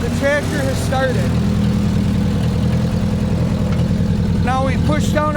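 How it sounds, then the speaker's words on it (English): An old tractor fitted with a flat belt pulley adapter idles steadily after starting, a loud, even low chugging that runs throughout while a person talks over it at the start and end. "the tractor has started"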